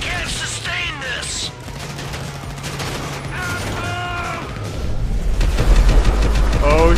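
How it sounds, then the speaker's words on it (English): Rapid gunfire and explosions in the GTA 5 video game, a continuous dense barrage that swells louder toward the end, with someone talking over it. "If I keep shooting, maybe something will explode."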